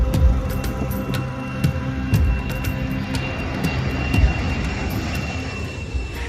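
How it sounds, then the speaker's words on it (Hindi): A Boeing 747 airliner in flight on a long-haul journey of over 8,000 km to India gives a steady, loud engine drone with a continuous rumbling roar and faint tonal whine, with no voices. "विमान 8000 किलोमीटर से भी ज्यादा लंबी उड़ान भरते हुए भारत के लिए निकल पड़ा"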